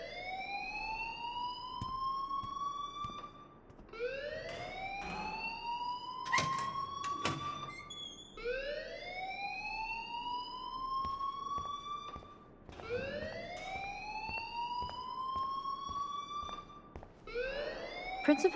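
An alarm rings in the video game Life is Strange, rising whooping siren sweeps repeating roughly every four seconds, loud and continuous with a few sharp clanks and knocks scattered between cycles.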